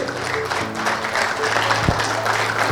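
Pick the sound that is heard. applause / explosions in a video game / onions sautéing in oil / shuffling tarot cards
applause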